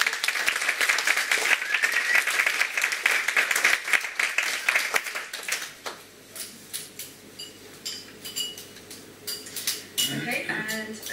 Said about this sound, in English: a big round of applause for Heather.